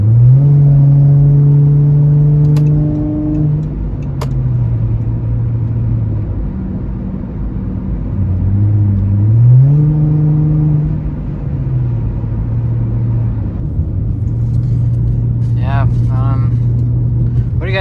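A Chrysler 300 with a new K&N intake revving, its engine and exhaust rising and falling through several throttle blips with a deep steady idle between, loud and close, with a voice talking over the later part.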